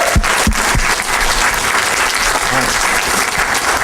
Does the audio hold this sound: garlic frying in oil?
no